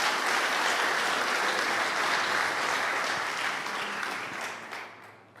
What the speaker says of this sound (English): Ronald, Kingma, give him a round of applause.